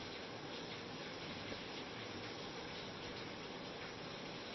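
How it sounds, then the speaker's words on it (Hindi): Rain falls on a thatched roof as a faint, even, continuous patter that blends into a soft, steady hiss. "पानी के बूंदों का गिरने का जो आवाज़ है, बड़ा ही मधुर लगता है।"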